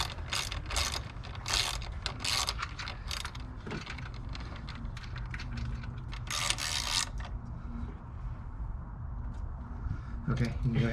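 Ratchet tightening the turbo intake on a Fiat 124 Spider, rapid clicking bursts in short repeated strokes, close up, with a pause midway and faint mechanical noise and some quiet talk in the background.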